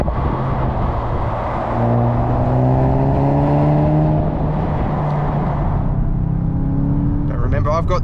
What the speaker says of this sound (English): And it even pops and bangs on the overrun as well.